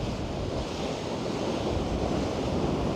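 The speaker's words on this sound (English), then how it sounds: "Look at the size of them waves" Choppy sea waves break on the shore under strong wind, a continuous loud roar of surf and blustery wind noise with no voices.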